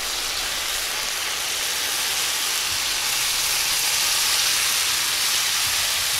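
Water is poured into a hot pan holding chicken legs and vegetables being braised. It makes a loud, steady sizzling hiss that lasts the whole time, with no voices.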